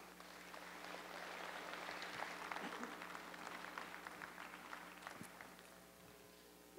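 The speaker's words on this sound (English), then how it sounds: "I hope ringside would give you a well-deserved round of applause" A ringside crowd at an International Ayrshire cattle show, at the junior show's senior champion female judging, claps steadily and fairly quietly throughout, with a low hum beneath.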